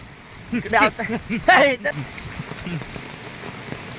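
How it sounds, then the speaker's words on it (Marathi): Heavy, stormy monsoon rain pours down in the Konkan countryside, a steady broadband hiss beneath a person talking loudly nearby. "ह्या वर्षीचा तुफानी पाऊस तुफानी पाऊस"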